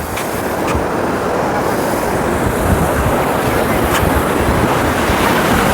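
Sea waves crash against the rocks at Tanah Lot temple in Bali, a loud, continuous roar of surf and spray with no voices.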